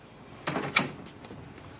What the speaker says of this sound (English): Now close the ink cartridge chamber door.